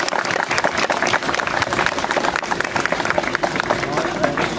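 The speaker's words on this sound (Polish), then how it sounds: "Wielkie brawa!" Loud, dense audience applause at a brass band festival in Czemierniki, a continuous clatter of many hands clapping throughout, with some voices and cheers mixed in.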